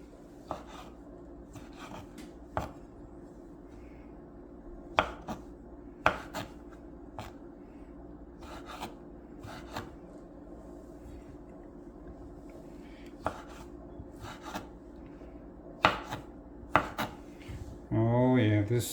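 Knife chopping olives on a cutting board: sharp, irregular thunks spaced a second or two apart over a steady low kitchen hum, close and clear, with a brief rustle near the end.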